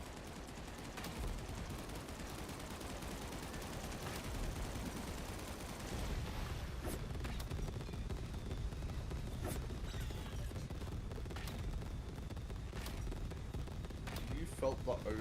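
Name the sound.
gunfire from Odin gun in video game Far Far West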